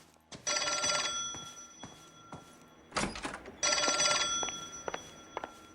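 Telephone bell rings in two loud bursts with a pause between, close by and clear, with a few soft thumps and footsteps around it and no talking.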